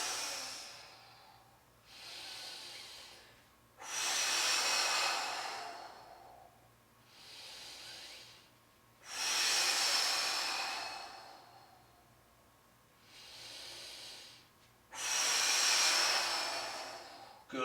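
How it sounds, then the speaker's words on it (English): People breathe heavily through exercise reps in a workout class, each long hissing exhale rising and fading in a slow, regular cycle of about six loud breaths, heard alone and close. "Good job breathing with every rep"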